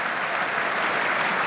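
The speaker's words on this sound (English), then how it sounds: "as that round of applause and ovation" Steady applause and ovation from a cricket crowd at an England v New Zealand Test match, greeting the new England captain walking out to bat; a dense, even wash of clapping that holds at a constant level without pause.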